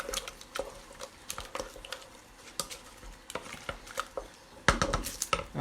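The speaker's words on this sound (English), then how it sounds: "stir it all in" A spoon stirring chorizo and other ingredients in a pot for chicken liver pâté, with irregular soft scrapes, taps and wet squelches close up, no talk.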